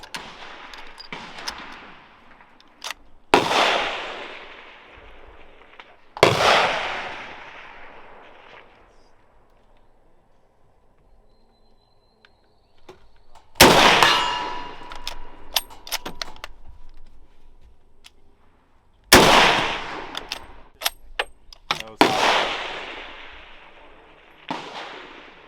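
A Krag-Jorgensen M1892-99 rifle fired at an outdoor range: several loud, sharp reports spaced seconds apart, each with a decaying echo tail, with quieter handling clicks and bolt noises between shots.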